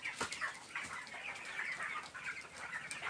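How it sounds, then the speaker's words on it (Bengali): Broiler chickens on a raised platform coop pant and cluck in the heat during a power cut, a faint, busy chorus of low clucks and soft rustling spread through the shed. "এই কারণে মুরগিগুলা হাঁপাচ্ছে"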